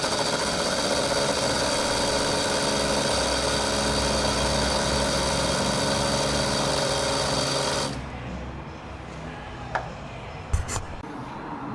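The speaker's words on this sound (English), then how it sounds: "in all theory, fuel pumps shouldn't make noise. Well, not that kind of noise." An overworked fuel pump on a 1000 hp buggy, running hot and arcing, gives a loud, close, continuous whine and buzz with a rough mechanical edge for about eight seconds, then cuts off, leaving quiet clicks and knocks.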